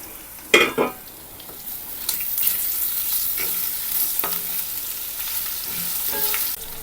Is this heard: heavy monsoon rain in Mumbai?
no